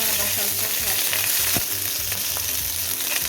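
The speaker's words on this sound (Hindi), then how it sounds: "घी जो है वो गर्म हो चुका है, तो इसके अंदर ये हमारे पास जो 1 चम्मच अदरक लहसुन का पेस्ट है वो हमने शामिल कर दिया।" A spoonful of ginger garlic paste fries in hot ghee in a kadai, giving a steady, close crackling sizzle with light stirring scrapes and no talking.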